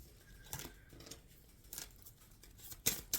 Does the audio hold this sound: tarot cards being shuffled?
yes